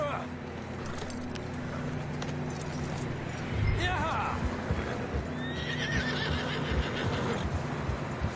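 A horse in the video game Red Dead Redemption 2 whinnies loudly mid-clip amid steady hoof clip-clops and jangling tack, with spoken dialogue running over much of the scene.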